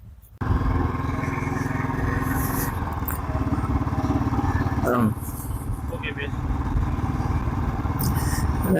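A motorcycle engine rumbles steadily while riding on the road from Kpm to Manapad, a close, continuous throbbing drone with people talking over it.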